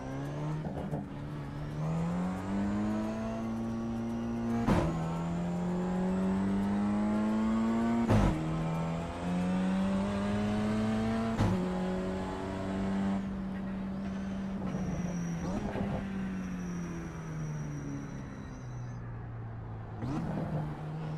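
Race car engine in iRacing at the newly scanned Laguna Seca circuit, a loud continuous drone that rises and falls with throttle and gear changes, with sharp shift blips roughly every three seconds and no talk.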